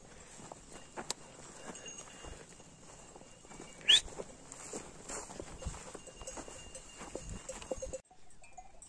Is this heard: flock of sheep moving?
yes